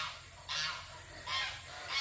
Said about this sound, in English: Oh, I think the geese are coming to see us.